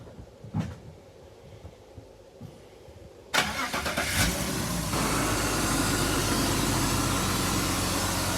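A 1998 BMW 525i petrol engine, running cold, cranks over and catches with a sudden loud start, then settles into a steady idle after a few quiet knocks and clicks.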